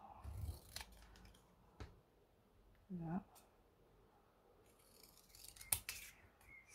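Sharp snipping clicks of old, worn scissors cutting through cereal-box cardboard, a few separate cuts with quiet gaps and a short voice in between.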